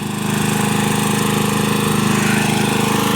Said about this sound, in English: Well, I got the lawnmower running.